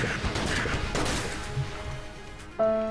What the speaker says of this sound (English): I just got insta-killed by an explosion.